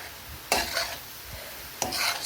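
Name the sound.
stirring cabbage curry in a pan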